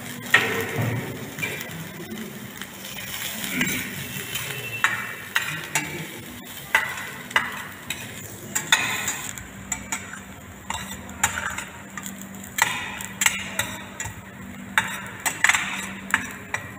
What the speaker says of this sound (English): put the vegetable and keep sauteing until it gets brown